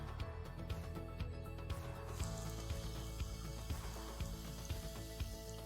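Topo Chico mineral water fizzes around a tea bag, producing a faint, steady crackling hiss of tiny bursting bubbles, heard up close with occasional louder pops.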